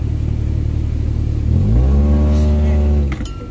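A Honda CR-V revs hard while driving off-road over a tree stump. The engine drones low at first, then climbs into a loud, rising rev that holds for over a second before dropping off, with a brief clatter at the end.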